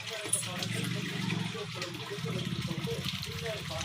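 Water pours steadily into a can with a continuous gushing splash, while a person talks over it the whole time.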